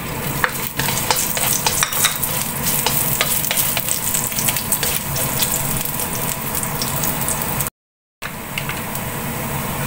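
Sliced ginger (luya) fries in hot oil with a loud dense sizzle and frequent stirring clatter, continuous and close, broken by a brief dropout near the end, no talking.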